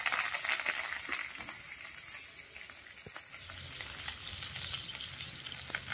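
Curry leaves fry in hot oil alongside small onions, making a dense, close crackling sizzle with sharp pops throughout and a low stirring rumble entering midway.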